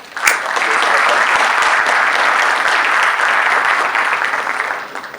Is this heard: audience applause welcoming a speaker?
yes